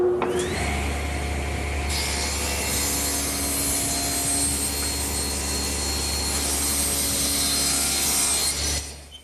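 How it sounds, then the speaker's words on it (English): A table saw rips the thickness of a board off a wooden side piece for a child's sandbox, a loud steady whining cut with a low motor hum that holds for about eight seconds before spinning down. "And I'll do that at the table saw."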